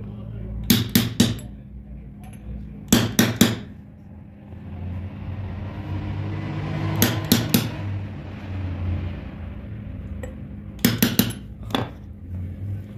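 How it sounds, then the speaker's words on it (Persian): Hammer blows tapping an oil seal into a six-bolt hydraulic pump for a Peugeot 206, falling in three quick clusters of sharp metallic strikes with a steady low hum between them. "حالا یا با چکش یا با یه چیزی ضربه بزنید"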